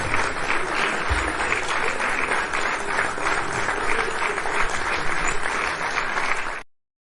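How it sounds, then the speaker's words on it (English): Sustained audience applause, dense and fairly loud, continuing evenly for several seconds before cutting off abruptly. "You know you deserve every single clap"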